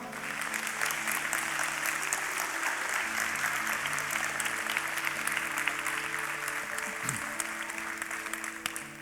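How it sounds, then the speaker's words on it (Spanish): A church congregation applauding, a steady dense burst of clapping that lasts throughout, loud and close, with faint voices underneath. "Entonces brinden un aplauso al Señor."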